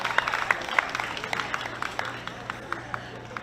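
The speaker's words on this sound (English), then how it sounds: "Big round of applause." Audience applause at an outdoor community celebration for the North American Indigenous Games, scattered claps heard at a distance over a low steady hum, fairly faint and unhurried.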